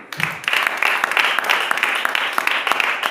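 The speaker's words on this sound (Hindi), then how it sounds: "ताली बजाइए." A church congregation applauds during a Hindi sermon, a dense, steady patter of many hands that lasts the whole stretch with no clear voices on top.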